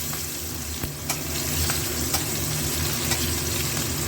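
Onion dropped into hot oil with whole garam masala spices fries with a constant, dense sizzle, close and even throughout, with a few faint clinks of a spoon against the pan and no voices.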